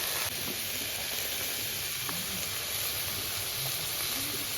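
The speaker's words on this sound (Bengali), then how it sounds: "এবার পুঁই শাক আর যে কাঁঠালের বিচি আর কাঁচা লঙ্কা চিরা রয়েছে সবটাই আমি ঢেলে দিচ্ছি কড়াইয়ের ভেতর।" Malabar spinach, jackfruit seeds and slit green chillies sizzle in a wok with a loud, constant hissing roar that holds steady throughout, close by, with no talking.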